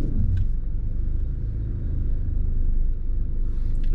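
An Australian-version Honda Jazz GE8 hatchback pulls out of a parallel parking spot, its engine and tyres making a steady, close, low rumble with no voices.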